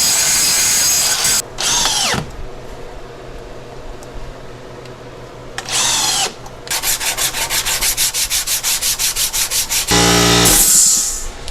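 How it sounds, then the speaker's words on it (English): Hammer marks are ground out of a metal part for a car radiator with a power grinder, in loud bursts of harsh grinding separated by pauses, then a rapid run of short pulsing passes and a final louder burst. "I've got a lot of the imperfections out and the hammer marks out just by grinding it"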